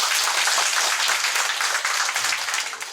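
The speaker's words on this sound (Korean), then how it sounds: "뜨거운 박수 한번 부탁드리겠습니다" A roomful of people at a neighbourhood redevelopment meeting applaud in a dense, loud wash of clapping that tapers slightly near the end of three seconds.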